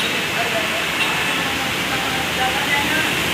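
A train runs through heavy monsoon rain near Rabale railway station in Mumbai, as a loud, steady rushing hiss of water and rolling rail noise with faint squeals over it.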